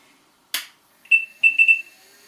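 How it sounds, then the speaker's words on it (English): An HP 4957A protocol analyser beeps at power-on: after a click from the switch, a clear electronic tone sounds once, pauses, then three quick beeps follow close together, bright and near in a quiet room. "we've got beeps"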